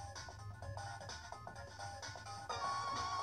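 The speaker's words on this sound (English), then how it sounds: "As you hear them vibrating on the bench" An Easy SMX G291 gaming headset lies on a bench playing music, its speakers buzzing and vibrating against the surface with a steady, tinny, fairly quiet tone throughout.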